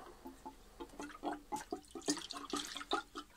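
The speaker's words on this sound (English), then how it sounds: "So I'll just pour some diesel into this one." Diesel fuel is poured into a container to soak BMW M52B30 cylinder head parts, giving a series of irregular, gurgling splashes up close at moderate volume, with no speech.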